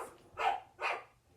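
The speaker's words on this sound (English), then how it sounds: "Sorry about my dogs." Two sharp barks from dogs indoors, spaced about half a second apart, moderately loud against a quiet room with no talking.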